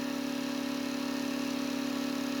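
A generator runs steadily while charging a battery, a constant close hum with a strong, unchanging tonal drone and no breaks or voices.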